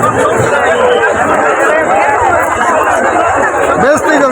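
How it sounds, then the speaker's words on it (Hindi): A huge crowd at Prayagraj on the Mauni Amavasya holy bathing day gives off a loud, constant babble of many voices and shouts, close and unbroken throughout. "आज मौनी अमावस्या है और भीड़ बहुत ज़्यादा है"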